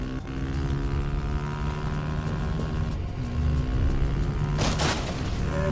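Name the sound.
motorbike engine in video game Homefront: The Revolution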